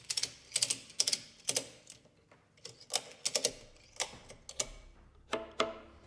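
Ratchet straps being cinched on an Erlewine neck jig holding a small-body acoustic guitar make crisp, close ratcheting clicks in repeated short bursts with brief pauses between pulls.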